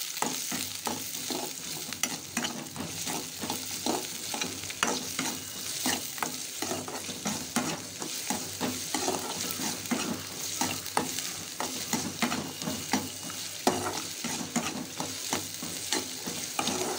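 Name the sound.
sautéing grated coconut in a pan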